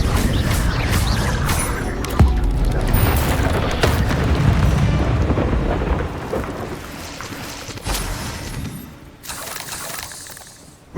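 The Confringo blasting spell in Hogwarts Legacy: a sharp blast followed by a rumbling, crackling roar that slowly fades, then a fresh burst of noise near the end.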